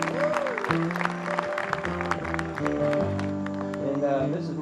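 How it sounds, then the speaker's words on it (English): An audience at a backyard concert applauds the upright bass player, steady clapping running beneath sustained instrument tones and a voice for the whole stretch. "Give him a round of applause."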